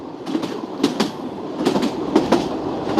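A train rumbles past with rhythmic clickety-clack of wheels over rail joints, swelling as it nears and fading as it moves off, heard alone without voices.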